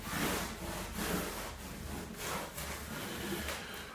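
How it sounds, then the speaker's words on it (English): Hard, rhythmic rubbing strokes of a hand pressing tape onto a foam sailplane wing, a close, steady scuffing swish repeating about every half second. "when you rub hard on the tape"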